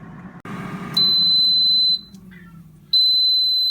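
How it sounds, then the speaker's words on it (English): A Power AirFryer XL signals the end of cooking with two long, steady electronic beeps, each about a second long with a short gap between, heard over faint kitchen room tone. "She makes a beep."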